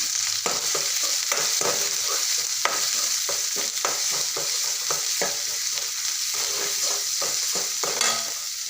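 Garlic paste and ground coconut cook with onions in a pan, a dense steady sizzle and fry broken by frequent scraping stir strokes of a spoon against the pan, close and fairly loud throughout.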